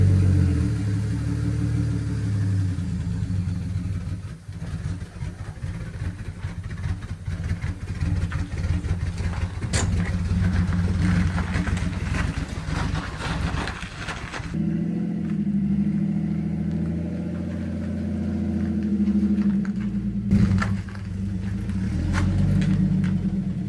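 An Infiniti G35 drift car idles steadily as it warms up, a continuous low mechanical rumble with slight shifts in tone and no talking.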